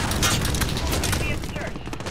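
Rapid MP5 submachine gun fire in the shooter game Call of Duty: Modern Warfare, a dense continuous burst of shots lasting the whole moment, loud and close.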